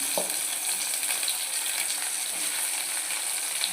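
Tomatoes frying in a pan for a prawn fry give a steady, dense sizzle that holds at an even level throughout, with a single faint clink near the start.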